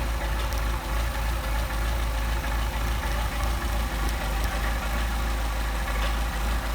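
A Mercedes 190SL engine on Solex carburetors idles at about 700 rpm, a steady, close, low rumble with an even pulsing beat throughout and no talking.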